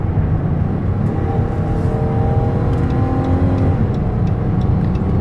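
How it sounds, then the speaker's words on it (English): A 2012 Dodge Caravan SE wheelchair van with about 130k miles accelerates on the highway, its engine droning steadily with rising whine tones as speed builds, loud and close, road noise underneath. "give them some gas so you can hear the engine run and feel the transmission shift"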